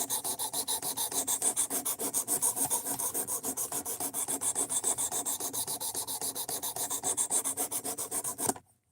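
Steel is ground off the edge bevel of a RoseCraft Blades Pocket Monster knife in a steady, fast rhythm of close rasping strokes that continue evenly, then stop abruptly, with no speech.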